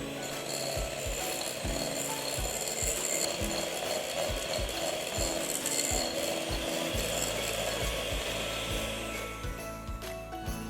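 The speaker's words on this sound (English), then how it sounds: "Here I have 1 cup of butter, which I'm going to whisk till it's light and fluffy." A cup of butter being whisked until light and fluffy gives fast, even, rhythmic scraping strokes against the bowl over a steady background hum, close and moderately quiet, with no speech.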